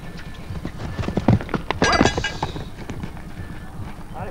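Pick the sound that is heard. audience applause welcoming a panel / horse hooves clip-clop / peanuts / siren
horse hooves clip-clop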